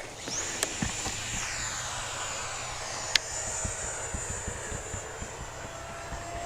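An FMS Super EZ radio-controlled model airplane flies over a runway, its electric motor whining steadily with a gliding pitch shift as it passes, heard alone with faint outdoor clicks.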